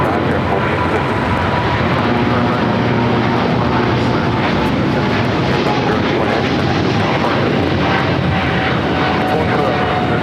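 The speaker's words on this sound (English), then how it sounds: "There's Air France Flight 21 heading back to Paris at 777-300ER." An Air France Boeing 777-300ER taking off from LAX for Paris makes a continuous broad engine roar with a faint whine, heard at a steady level beneath ongoing talk.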